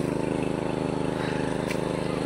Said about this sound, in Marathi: हे आपल्या इकडे ट्रॅक्टर सुरू आहे.